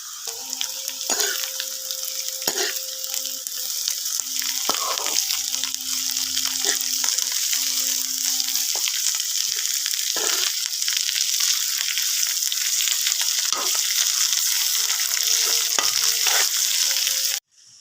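Sliced onions frying in hot mustard oil, a steady loud sizzle running throughout with occasional stirring clatters and brief tonal hums, cutting off abruptly at the end.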